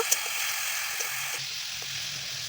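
Chopped vegetables coated in chili paste sizzle steadily in a hot pan, an even hiss throughout with faint stir clicks, close and without talk.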